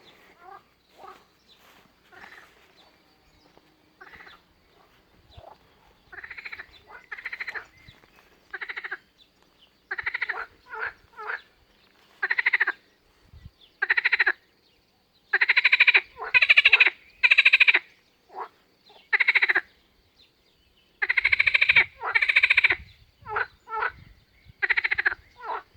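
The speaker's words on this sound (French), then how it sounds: "là, on entend les grenouilles" Frogs in an early-June garden croak in repeated rasping bursts, some faint and distant, others loud and close, with pauses between the calls and no talk.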